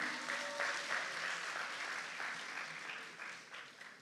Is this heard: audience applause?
yes